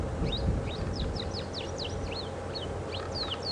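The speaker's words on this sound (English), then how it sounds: "There's a sunbird calling very loudly." A sunbird calling loudly at an African game reserve, a series of quick, sharp high chirps and whistles repeating over a low outdoor rumble.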